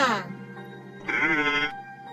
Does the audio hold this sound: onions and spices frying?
no